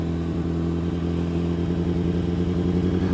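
A Suzuki Bandit 1200N MK1 motorcycle engine runs steadily while being ridden, a loud, continuous four-cylinder drone with a slightly uneven, throbbing mid-low rumble and no speech.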